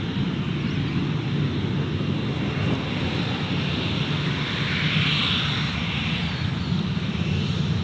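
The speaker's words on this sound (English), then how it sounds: "The Melbourne service now departing, the Velocity 737." A Velocity Boeing 737 departs Gold Coast Airport, its engines a loud, steady broadband roar that holds at a constant level throughout.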